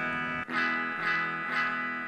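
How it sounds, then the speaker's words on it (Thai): Distorted electric guitar through an Ibanez Tone Blaster TB15R amp with overdrive, three sustained chords struck in a slow even rhythm, thick and buzzing with no voices. "ต้องเป็นแอมป์ที่ต้องเปิดเกนเยอะเพื่อเล่นเสียงแตก"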